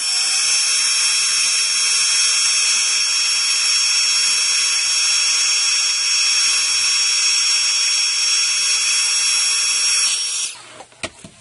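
A heat tool warming stamped ink whirs loudly and steadily for about ten seconds with a constant high-pitched fan whine, then switches off and winds down into near silence with a couple of small clicks.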